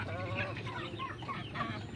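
Chickens cluck and murmur continuously close by, a busy flock chattering over a low background hum.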